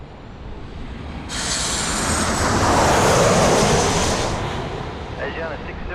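Airliner roaring overhead on final approach at Sydney Airport, a broad jet rumble swelling loud for several seconds and then easing, heard outdoors from a plane-spotting spot.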